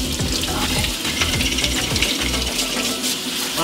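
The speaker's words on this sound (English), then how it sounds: "rinse it over here" Water runs steadily from a tap into a sink as a chimpanzee's hands are rinsed, a loud, continuous splashing gush close by.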